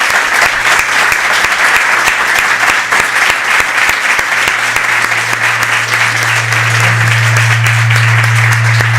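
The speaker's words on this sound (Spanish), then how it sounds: "Un fuerte aplauso, por favor." Strong, sustained audience applause follows a lecture on Marx and Capital by Enrique Dussel, a loud, dense, even clatter of many hands that carries through the whole stretch while a low hum rises beneath it near the end.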